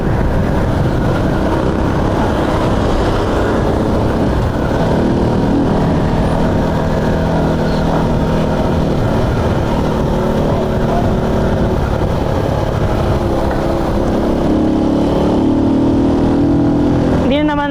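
A Rusi Flash 150 carbureted motorcycle engine runs hard at full RPM on the road, a constant loud droning roar mixed with heavy wind rush, while a voice talks over it.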